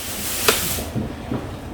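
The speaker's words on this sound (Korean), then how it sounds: "지금 이렇게 끓어오르기 시작을 하면 약불로 줄여서 20분 정도 끓이시면 되는데" Vegetable soup in a pot starts to boil over high heat, giving a steady hiss that fades after about a second into soft, faint bubbling.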